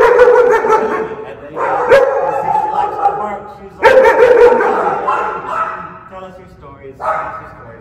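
A German Shepherd puppy barks loudly in a few sharp bursts spaced a couple of seconds apart, close to the listener, with a person's voice also present.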